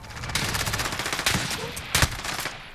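MP9 submachine gun fired in Call of Duty Modern Warfare with attachments, loud steady automatic bursts running nearly three seconds with brief sharper peaks, up close and with no talking.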